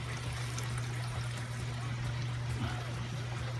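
Water pours steadily from the outlet of an aquaponics grow bed planted with garlic, a continuous close splashing rush with no pauses.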